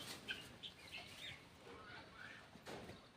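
Chickens and guinea fowl on a small goat farm give scattered clucks and short chirping calls, faint and intermittent against quiet outdoor background, with a brief sharper sound near the end.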